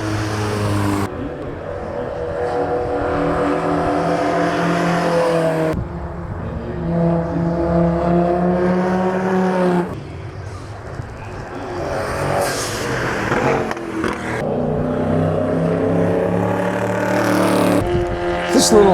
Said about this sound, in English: Great to enjoy the sound of these vintage race cars.